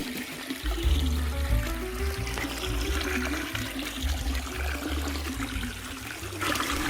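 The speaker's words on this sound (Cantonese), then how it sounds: "呢度有靚嘅流水。" Clear water from a stream at the Lau Shui Heung reservoir in Pat Sin Leng Country Park rushes and trickles steadily nearby, a constant close babbling flow with a low rumble underneath.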